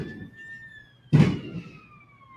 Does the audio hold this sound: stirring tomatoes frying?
no